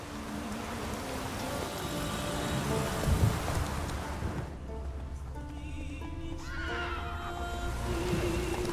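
A horse in the video game Witcher 3 gives a loud whinny, heard alongside steady rain and rumbling thunder, followed by quieter ambient game sound.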